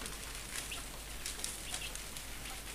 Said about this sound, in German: Da beschwert sich gerade ein Hahn.